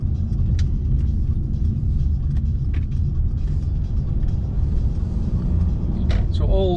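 A car drives through Glasgow streets past new housing, narrowed roads and cycle lanes, its steady low engine and road rumble continuous and close throughout, with no talk over it.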